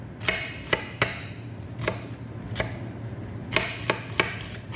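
A knife chops onions into small pieces on a board, about nine sharp, close taps at an uneven pace over a low background hum.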